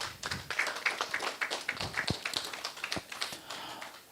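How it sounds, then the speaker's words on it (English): Audience applause at a cadet company gathering, a steady patter of many hands clapping that stays fairly loud for several seconds before thinning out, without talk. "Give yourselves a round of applause for a job well done."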